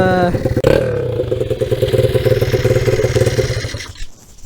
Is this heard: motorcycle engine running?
yes